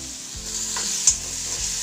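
Finely chopped onion, green chilli paste and asafoetida sautéing in a pan, a steady close sizzle with soft stirring scrapes and one sharper clink near the middle, no voices.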